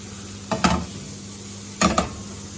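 Onions and mushrooms fry in a pan with a faint sizzle underneath two quick pairs of stirring scrapes, the second pair about a second after the first.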